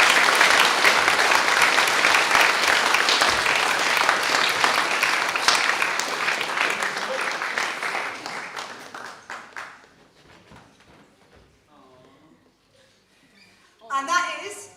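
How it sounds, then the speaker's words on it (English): Loud applause from an audience at a senior school prizegiving rolls on for several seconds, then fades away to near quiet with scattered murmurs before a brief new burst of clapping at the very end. "Round of applause for you all"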